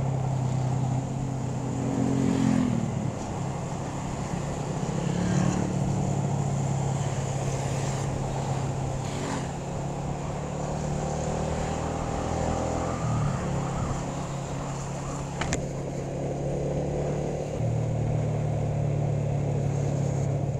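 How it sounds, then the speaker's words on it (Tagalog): Motorcycle engines drone and shift pitch on a mountain road near a campsite in Tanay, a steady near rumble with repeated throttle changes and gear shifts, and no talk over it. "Rata ng rat-rata yung mga motor."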